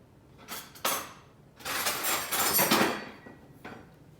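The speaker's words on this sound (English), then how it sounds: "let me grab a fork" Cutlery rattling and clinking in a drawer, a couple of brief metallic jingles followed by a longer rummaging clatter, close and fairly loud.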